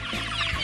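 Hens cluck inside a farm henhouse raising free-range fertile eggs, a short, close, busy stretch of overlapping clucks and fowl calls.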